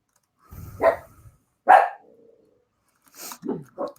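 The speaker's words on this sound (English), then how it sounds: "Whenever I start talking about 9/11, they start barking." A dog barks several times in a room. Two loud separate barks come first, followed by a cluster of shorter, softer yips and barks after a pause.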